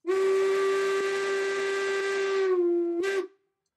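A long, deep, pitch-lowered whistle from a BR 10 steam locomotive blows loud and steady for about three seconds, then a short second toot ends it.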